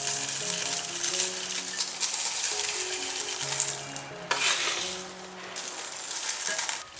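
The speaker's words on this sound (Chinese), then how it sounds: "再撒上粗盐" Coarse salt is sprinkled over large hairy crabs packed in a pot, a steady gritty hiss with a couple of sharper rushes, under light background music.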